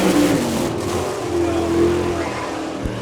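Sprint-style race car lapping the dirt oval at Chillicothe, Ohio, during an All Star Circuit of Champions event, its engine droning loud and steady with shifting pitch throughout, a brief thump near the end.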